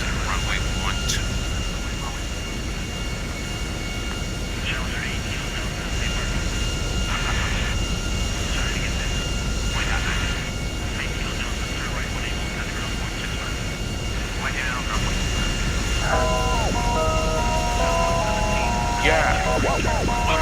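A Grand Theft Auto airliner comes in on final approach to land on a runway, its steady engine roar running throughout under radio chatter and game music, with a brief melodic tone near the end.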